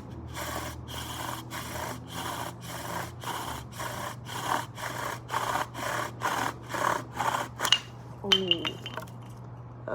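A bow drill spins a wooden spindle to make a friction fire, producing a fast, regular back-and-forth rasping of wood on wood. The strokes stop near the end, followed by a few brief knocks and rustles.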